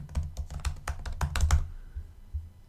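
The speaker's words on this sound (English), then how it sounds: "But I'll type in advertising" Search term typed on a computer keyboard, a quick run of close, crisp keystrokes clustered together, then a short pause and a couple of isolated taps, with no talking.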